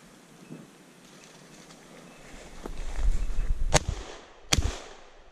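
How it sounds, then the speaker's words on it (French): Two sharp, loud shotgun blasts go off outdoors a short moment apart during a woodcock hunt, with quiet rustling and movement through the undergrowth before and between the shots. "j'ai tiré trop près"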